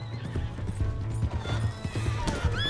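A horse in the video game Red Dead Redemption 2 lets out a loud whinny over steady clip-clopping hooves, close and continuous, with game background sound and no speech.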